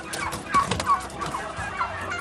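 A turkey on a farm gobbles faintly in a few short bursts over quiet background noise, with no talking.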